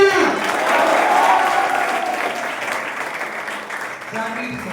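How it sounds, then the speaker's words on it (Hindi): Students at a Teachers Day event in a Patna residential coaching program applaud a teacher, sustained crowd clapping that rises and fades slightly, with a voice coming in near the end. "विनोद सर तालियां"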